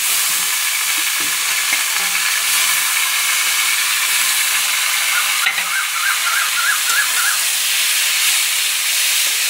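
Radish pieces for radish curry hit a hot pan tempered with bay leaf, giving a loud, steady hiss of sizzling steam that fills the whole stretch with no talking.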